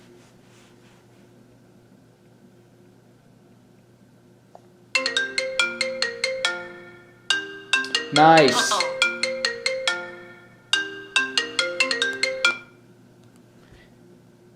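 A new iPhone rings with a bright chiming melodic ringtone, two repeated bursts of the tune separated by a short gap, loud and close, while a person speaks briefly.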